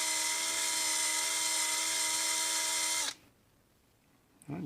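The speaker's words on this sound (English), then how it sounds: "it's just quicker with the drill." A power drill cleaning a Honda XR/CRF motorcycle carburetor whirs loudly and steadily for about three seconds, then stops abruptly, leaving quiet room noise before a brief clatter.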